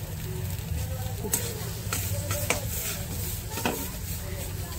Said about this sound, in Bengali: এরকম নাড়াচাড়া দিতে দিতে একটু লাল লাল ভাজা ভাজা হয়ে যাবে।